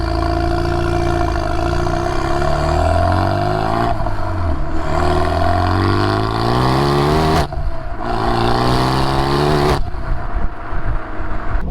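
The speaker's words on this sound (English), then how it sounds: "There, you can hear it on the exhaust." A loud car exhaust roars as the engine climbs through revs, dropping briefly between gear changes before surging again, close and continuous.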